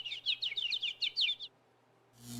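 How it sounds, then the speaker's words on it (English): Birds chirping in a quick series of bright, high tweets for about a second and a half, then quiet, with a faint steady hum underneath. "Birds chirping."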